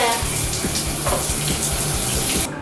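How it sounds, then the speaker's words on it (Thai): Steady running tap water splashing as a face is rubbed and washed to test waterproof makeup, loud and continuous at close range before cutting off near the end. "ถูล้างหน้าเลยนะแก"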